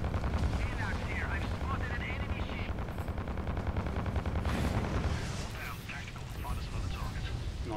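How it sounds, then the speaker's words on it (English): Missile launches and explosions in the space combat game Fractured Space form a dense, continuous rumble of gunfire-like blasts and booms, with players talking over the din. "Missiles away."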